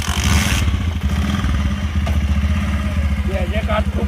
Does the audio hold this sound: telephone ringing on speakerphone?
no